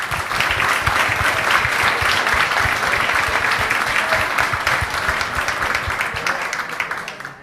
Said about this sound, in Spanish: los reconocemos realmente hoy con un aplauso